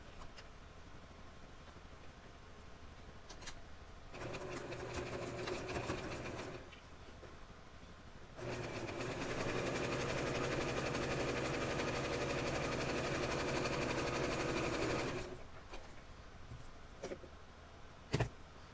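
A sewing machine stitching fabric for an 18-inch doll's nightgown runs in two bursts, a short whirring run and then a longer steady mechanical hum, with quiet room sounds between them.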